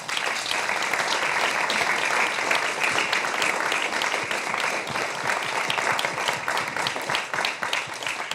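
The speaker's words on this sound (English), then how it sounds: "round of applause for our panel" Sustained applause from an event audience for a discussion panel, many hands clapping in a dense, even wash that holds at a steady level throughout.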